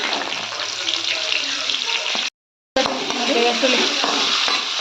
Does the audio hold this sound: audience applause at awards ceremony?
no